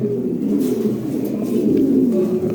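Pigeons coo continuously nearby, overlapping low throaty calls forming a constant murmur with light background noise.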